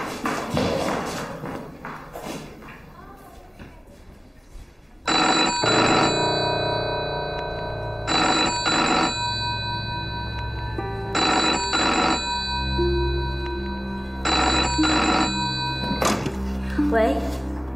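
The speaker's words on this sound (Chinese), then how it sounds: "怎么半天才接电话呀？" A telephone in a Chinese drama's office scene rings loudly four times with steady pauses between rings. Voices are heard before the ringing starts.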